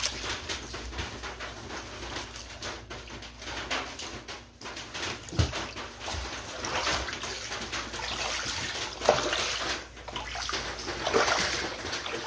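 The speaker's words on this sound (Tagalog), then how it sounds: "Grabe naman na tubig." Floodwater after a flood in the Philippines rushing steadily, a continuous splashing, gushing flow with patter, heard outdoors and fairly close, with faint voices now and then.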